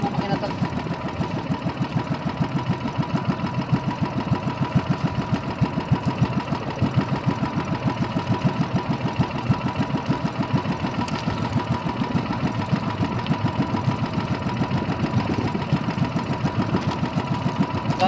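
Engine running at idle with a fast, even mechanical chug that repeats steadily, close and moderately loud throughout, no talking.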